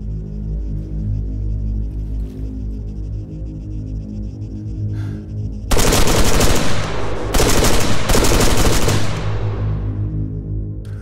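Rifle gunfire in the military shooter game ArmA 3: after a steady low drone, a loud close burst of rapid automatic shots erupts, stops briefly, then resumes in a second sustained volley before the noise tails off.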